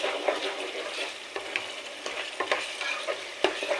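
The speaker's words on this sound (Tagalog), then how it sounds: "Nagigisa na ako ng sibuyas" Onion, tomato, garlic and ginger sautéing for chicken biryani, a dense close sizzle with repeated scraping stirs of a spatula in the pan, no voices.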